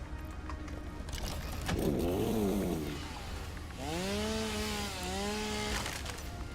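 A chainsaw in the video game Satisfactory cuts down a tree, its rising and falling motor whine running steady and close for several seconds with no talk.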